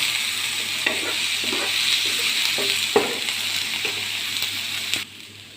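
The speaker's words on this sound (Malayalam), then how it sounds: "ഇത്തിരി വേപ്പിലയും കൂടി ചെറുതായിട്ട് അരിഞ്ഞേക്കുന്നത് ഇതിനകത്ത് ഇട്ട് കൊടുക്കണം. സവോളയിലേക്ക് ഇട്ട് മിക്സ് ചെയ്ത് കൊടുക്കുക." Onions with chopped curry leaves sizzle steadily in a frying pan, with a spatula scraping and stirring at irregular intervals close by, then the frying drops away abruptly near the end.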